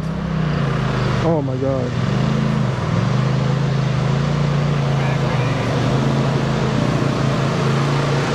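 Race car engines roar loudly and steadily at the Laurel Run hill climb, close by, with pitch sweeping up and down as they rev. A voice briefly exclaims over the noise.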